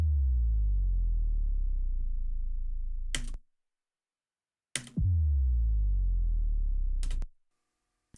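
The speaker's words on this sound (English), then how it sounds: "And we really augment this with a sub drop." A sub drop in a game soundtrack: two long, loud, deep descending booms, each sliding down in pitch for about three seconds and cut off with a sharp click, separated by a short silence.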